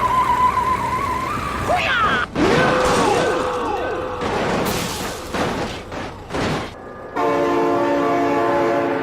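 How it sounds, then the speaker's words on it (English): A loud video-game train horn in BeamNG.drive sounds in long sustained blasts, broken by crashes and slams, then resumes as a steady multi-tone horn near the end. "Oh my god, train!"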